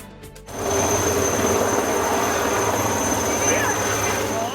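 A Coast Guard Chetak helicopter making an emergency landing on a dental college ground in bad weather gives a loud, steady rotor and turbine roar that swells in after a brief pause, with a high engine whine throughout.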